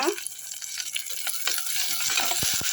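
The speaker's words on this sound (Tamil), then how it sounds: "நைஸாக வெங்காயம் வதங்கிடுச்சு" Onions and curry leaves sautéing in a pan make a bright, continuous sizzle up close, with soft stirring scrapes and a few quick clicks near the end.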